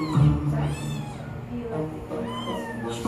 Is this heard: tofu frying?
no